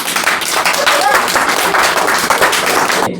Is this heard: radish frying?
no